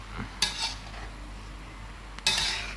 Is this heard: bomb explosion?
no